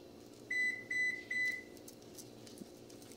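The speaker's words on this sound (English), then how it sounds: "That was the oven because it's preheated to cook the potatoes." A kitchen oven signals that preheating for potatoes is done with three clear, evenly spaced electronic beeps, followed by faint handling noises in a quiet room.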